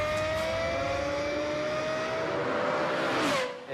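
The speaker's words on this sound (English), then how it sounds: "And the sound of this high-revving engine is unmistakable." A Lexus LFA sports car engine revs high and loud, its whining pitch climbing steadily before a brief shift near the end, with no talking.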